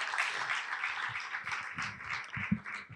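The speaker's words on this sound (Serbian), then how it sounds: "idemo i jedan aplauz za naše..." An audience at an event about a Croatian film applauds guests arriving on stage, a broad wash of many hands clapping at moderate volume, with some low thumps and scattered louder claps near the end.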